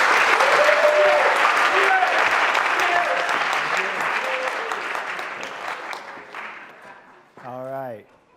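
Convocation audience applauding as Professor Salif Mahamane is welcomed; loud, dense crowd clapping that slowly thins and fades over several seconds, followed by a brief voice at the end.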